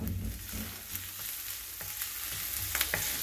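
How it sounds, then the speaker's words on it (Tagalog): Garlic frying in hot oil in a home kitchen while pork spaghetti sauce is being made, a steady close sizzle with a few light stirring clinks, no talking. "Lalagay ko na yung garlic."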